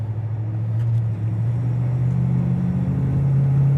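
A 1970 Chevy Caprice rolls along with a low, steady engine rumble heard from close by, the tone gradually climbing as it picks up speed, with no voices over it.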